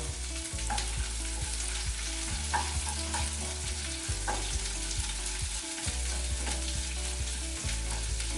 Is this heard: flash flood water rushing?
no